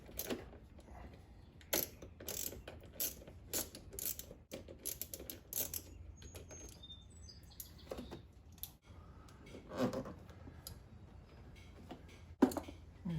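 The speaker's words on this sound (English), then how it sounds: "Now we can get the 10 millimeter bolt right here. Just loosen that up." Ratchet loosening a 10 millimeter bolt on the fuel filter of a Honda Prelude, quiet scattered clicks and clacks of tool and metal in bursts, close but low in level, with occasional faint chirps in the background.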